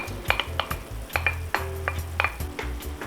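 Beef sautés in a pan for beef broccoli, with a lively sizzle broken by repeated scraping and clinking stirs of a utensil against the pan, close and fairly loud, with no talk.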